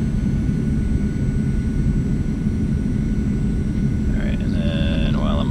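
A Zibo P-8A Poseidon jet taxiing in X-Plane 11, its engines producing a loud, steady roar and hum throughout, with a brief electronic tone pattern appearing near the end.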